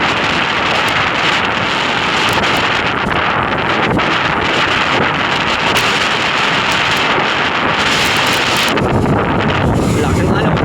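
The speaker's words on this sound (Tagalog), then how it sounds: "Lakas ng alon." Strong sea waves heard from aboard a boat, a loud continuous roar of water and heavy wind buffeting the microphone throughout, with voices talking underneath.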